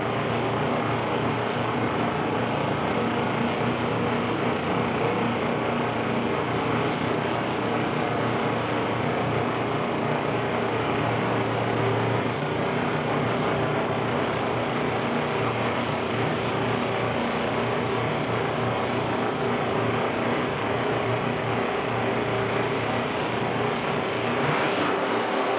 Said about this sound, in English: a single car down the right lane to finish out qualifier 2 of our NE1.